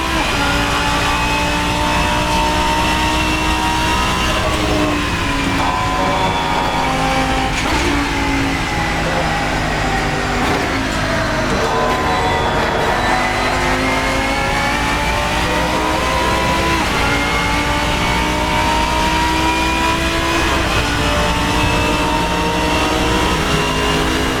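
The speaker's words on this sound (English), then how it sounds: "let you hear what Race Sim Studio has done with the sounds of this Lanzo V10 Evo2" A Lanzo V10 Evo2 GT3 race car in Assetto Corsa, its loud V10 engine revving hard and climbing through gears with repeated shifts, continuous and close throughout.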